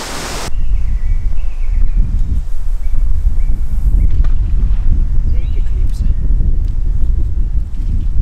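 Wind gusting outdoors during bottom-line fishing, a steady broadband rush and buffeting against the microphone that runs loud and continuous through the whole stretch.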